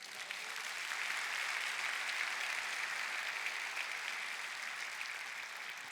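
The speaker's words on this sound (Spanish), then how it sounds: "Un aplauso a Cristo." A Palm Sunday church congregation applauds Christ with a steady, moderately distant round of clapping that sustains evenly for several seconds.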